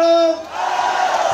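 A live concert crowd answers the stage with a short collective shout of "ho," following a sustained call from the performer, loud and brief.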